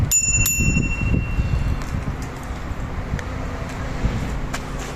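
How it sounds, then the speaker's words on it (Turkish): A bicycle bell on an electric bicycle rings twice in quick succession at the start, bright and close, followed by faint rattling and low background rumble. "Zili buraya aldım."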